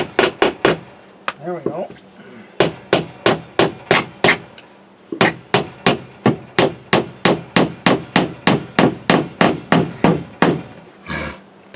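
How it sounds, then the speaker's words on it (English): Hammer blows driving nails into wood while building a back step: a steady series of sharp, loud strikes in quick regular rhythm, pausing briefly between runs, with a few words spoken. "It's a hard spot to hammer my nails."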